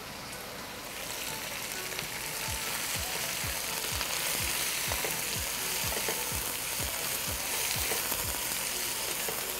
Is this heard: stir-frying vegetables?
yes